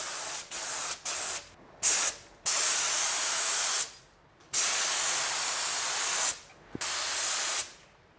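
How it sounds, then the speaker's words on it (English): A spray gun lays base coat paint onto a cardboard test sheet in several steady hissing bursts of one to two seconds, loud and close, with short silent gaps between passes. "Now we'll test out the spray pattern on the cardboard."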